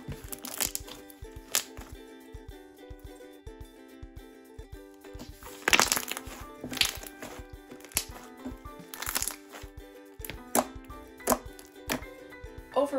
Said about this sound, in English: it still has great clicking noises and bubble pops